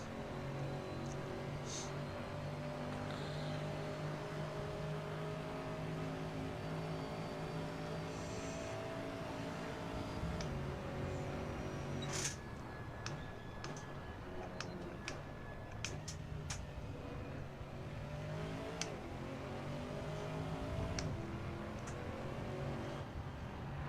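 Chevrolet Camaro race car in the racing game Assetto Corsa, its engine droning steadily with tonal harmonics that rise and fall through gear changes, with a few brief clicks and ticks over the constant engine noise.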